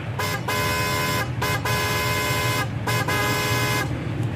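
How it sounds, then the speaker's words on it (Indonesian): A toy diecast Mercedes-Benz C 63 DTM model sounds loud car horn honks in three long blasts with brief gaps between them, close by, over a low engine rumble. "Klakson guys."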